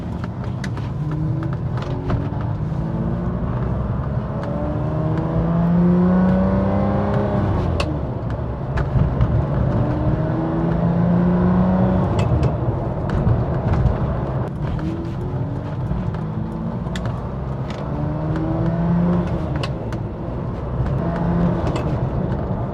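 A 1995 Ferrari 456 on a road test, its engine revving and shifting through rising and falling pitch sweeps, loud and close, with steady road and wind noise underneath throughout.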